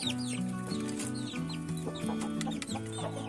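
Bangkok chicken chicks pecking at feed and maggots, close-up busy clucking and peeping in overlapping bursts with a low steady murmur of calls underneath.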